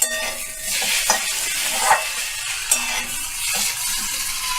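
A mixture stirred in a pan over a low flame, with a steady soft sizzle and spoon scrapes coming at irregular intervals, loud and close with no talking.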